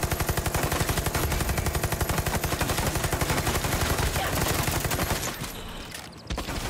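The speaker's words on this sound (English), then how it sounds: "Yeah, the bullets are bouncing off the roof." Rapid gunfire in Far Cry 6, bullets hammering a roof in a fast, steady rattling stream that is loud and close, then breaks off into quieter scattered noise near the end.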